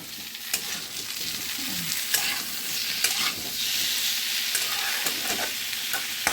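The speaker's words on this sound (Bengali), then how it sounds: "চিংড়ি দিয়ে ভালো করে কষে নেব।" Prawns and potatoes stir-fried in a pan make a steady close sizzle, with scraping and clicking of a spatula against the pan running throughout and no voices.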